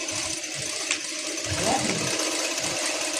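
A Jack A2C industrial sewing machine stitches with a close, steady mechanical hum and soft rhythmic thumps.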